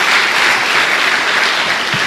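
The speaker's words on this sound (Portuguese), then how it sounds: "Dê uma salva de palmas a Jesus." A church congregation claps loudly and continuously, a dense wash of applause with no break over two seconds.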